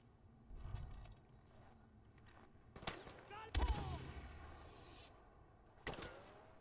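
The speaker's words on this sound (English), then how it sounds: "Who else is shooting at me?" Enemy gunfire in Far Cry 4, scattered bursts of shots at moderate distance with sharp cracks, one fairly close, over a low ambient background, with a voice speaking briefly.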